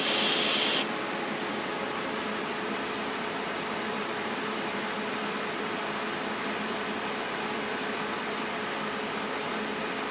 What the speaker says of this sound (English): I don't have any smoke testers, so I had to use deodorant.